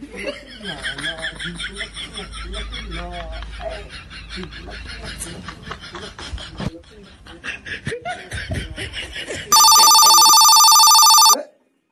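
An incoming call sets a phone ringing loudly near the end, a bright steady electronic ringtone lasting about two seconds after a stretch of people talking and laughing.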